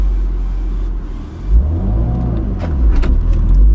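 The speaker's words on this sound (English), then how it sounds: "Just give it a little gas and feel out the clutch." A 2017 Ford Focus RS pulls away under throttle, its engine rumbling low and then rising in a revving sweep as it accelerates close by, with no talk over it.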